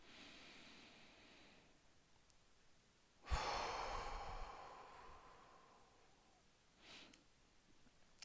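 A person takes a slow, deep breath in during a calm wellbeing breathing exercise, a close, soft airy inhale that swells and fades, followed later by a brief second breath sound; no talking.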